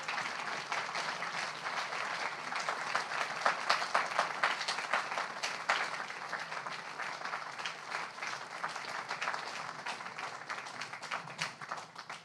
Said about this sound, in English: One more big round of applause for these poets.